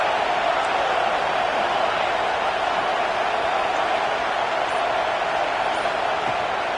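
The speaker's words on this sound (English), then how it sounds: "Decibels rising as the crowd gets behind this defense on 3rd down." A stadium crowd in a football video game roars on third down, a steady, loud, unbroken wall of cheering that holds level throughout.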